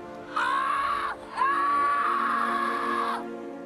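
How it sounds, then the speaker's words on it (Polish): An unnatural, drawn-out scream of a boy rings out in The Witcher 3, a loud wailing cry that breaks off briefly after about a second, then resumes and holds steady before fading, with no other sound over it. "Ten krzyk był jakoś nienaturalny strasznie"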